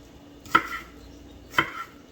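Two sharp knife chops through green onions on a cutting board, about a second apart, each a crisp close thud with a brief fading tail and no voices.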